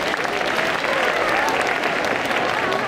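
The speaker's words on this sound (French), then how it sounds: "On les applaudit bien fort!" Audience at a cosplay parade during the Quimper Japan Manga Wave 2024 convention claps steadily, a dense, even wash of applause from a crowd filling the whole stretch.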